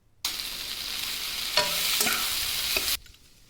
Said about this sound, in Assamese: ভালকৈ অলপ দেৰি ভাজিম, ফ্লেমটো মিডিয়াম কৰি।